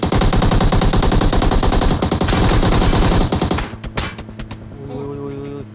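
Loud, dense automatic gunfire in PUBG Mobile fires as a sustained rapid burst, then cuts to a few isolated shots and a lingering hum.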